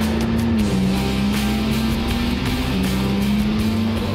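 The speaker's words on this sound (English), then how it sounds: "You hear the turbos kicking in." McLaren MP4-12C twin-turbo engine pulling hard from inside the cabin, a steady loud drone with pitch rising and dipping as the turbos spool, continuous throughout.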